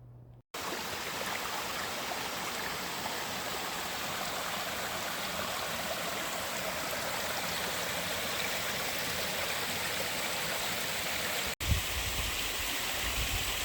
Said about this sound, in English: I totally almost missed the actual waterfall.